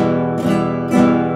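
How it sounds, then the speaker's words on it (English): Acoustic guitar strummed across all the strings, a full ringing chord sounded twice with a second strum near the end, rich sustained tone alone and close. "If I were to strum and hit all the strings, it would sound like this"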